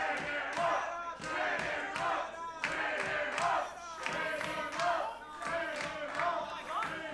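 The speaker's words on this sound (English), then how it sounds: "Crowd chanting, chain him up." Wrestling crowd at a live pro wrestling event chanting "chain him up" in a loud, rhythmic, repeated shout, with stomping thuds beneath and an arena echo.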